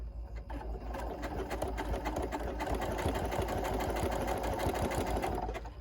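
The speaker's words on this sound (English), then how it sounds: "a little bit of ziggy-zaggy, and I'll do that right here, and it'll show a little zigzag and foot" A Janome Continental M7 sewing machine runs steadily while stitching a zigzag pattern, its fast, even needle rattle and motor hum continuous and close throughout.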